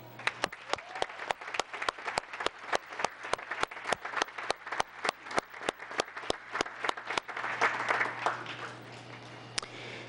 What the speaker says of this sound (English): we thank you with a big round of applause.